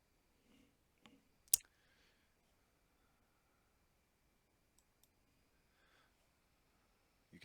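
Computer mouse clicks while saving a website backup at a desk: a few faint, scattered clicks, one sharper click near the start, with quiet gaps in between and no talk.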